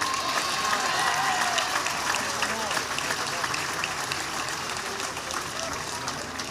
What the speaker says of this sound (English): A round of applause please for Loughrea.